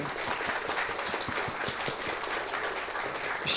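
A crowd applauds at a virtual reality furry convention panel, steady dense clapping that sustains evenly from start to end, with a slight swell at the very close.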